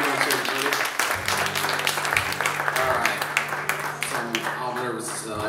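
Audience at a comedy show applauding as a performer is brought on, a dense, steady round of clapping with someone speaking over it.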